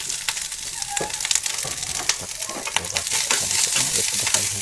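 Leftover cooked rice fries in a pan while being stirred, with a continuous close sizzle broken by repeated scraping and stirring strokes.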